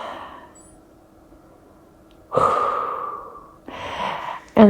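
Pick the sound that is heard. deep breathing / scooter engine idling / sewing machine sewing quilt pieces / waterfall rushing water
deep breathing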